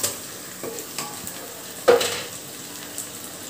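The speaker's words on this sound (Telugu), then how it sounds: "బాగా ఫ్రై అయిపోయింది ఇప్పుడు ఇందులోనే మనం కడిగి పెట్టుకున్న ప్రాన్ ని వేయాలి" Washed prawns hit a pan of fried tomatoes, a soft sizzle that rises suddenly as they drop in, mixed with a few light stirring knocks.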